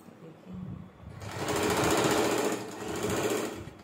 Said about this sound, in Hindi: मैं मिलती हूँ अभी आपको मशीन पे इससे सिलाई लगा के